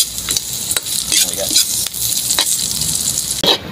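Onion frying with ginger and garlic in a pan, a loud close sizzle with frequent sharp spatula scrapes and clacks at an uneven rhythm.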